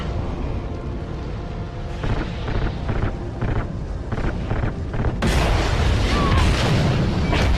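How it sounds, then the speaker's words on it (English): Call of Duty Ghosts game combat with dense rumbling bursts of gunfire and heavy booms, loud and continuous, rising into a harsher roar in the final seconds. "Fire! I got you, Baker! Just keep shooting"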